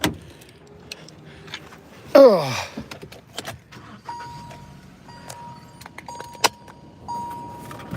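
Car keys jangling as they are picked up: a short metallic rattle burst stands out amid scattered clicks and handling noises, with one brief muttered voice.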